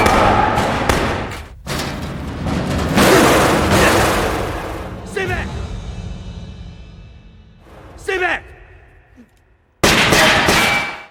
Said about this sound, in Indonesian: Lalu terdengarlah suara tembakan